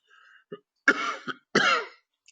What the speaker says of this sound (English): Sorry for this ongoing cough.